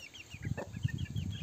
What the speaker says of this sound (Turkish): Gerçekten çok güzel bir tavuğumuz.